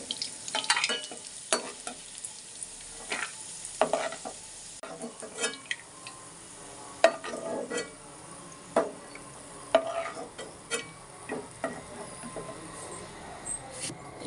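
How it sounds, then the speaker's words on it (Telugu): Black raisins stirred and frying in a pan on the stove, with repeated scraping and spatula taps over a light sizzle, fairly close and with no talk. "ఇక్కడ వేయించుకుందాం."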